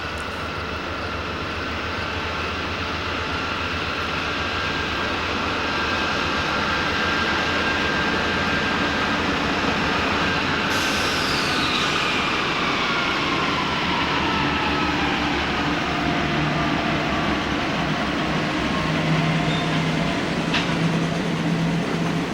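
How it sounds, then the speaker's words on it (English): A Herzog ballast train rolls east down the Slide toward Altoona. It gives a steady, loud, continuous rumble and roar that builds slightly and holds throughout, with faint high metallic whines drifting above it. "A Herzog ballast train comes down the slide heading east towards Altoona."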